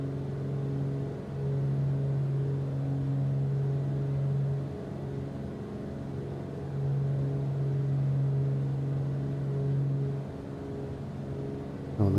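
Twin piston engines of a Blacksquare Grand Duke held at full throttle in Microsoft Flight Simulator: a steady, droning cabin hum with a strong low tone that swells and fades in slow beats over several seconds.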